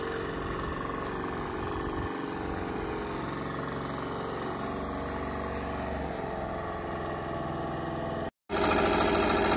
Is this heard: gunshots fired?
no